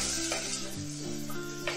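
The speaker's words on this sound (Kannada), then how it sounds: "ಈರುಳ್ಳಿ 1 ನಿಮಿಷ ಫ್ರೈ ಮಾಡೋಣ ಹಸಿ ವಾಸನೆ ಹೋಗೋವರೆಗೆ." Onions and curry leaves frying in a pan for beetroot curry, a soft steady sizzle with a few light clinks of a spoon stirring.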